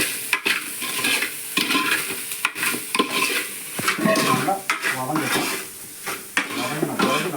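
Onions and spices are sautéed in a pan with rock salt for a Kerala-style drumstick curry, a spoon stirring and scraping steadily over a loud close sizzle, with no one speaking.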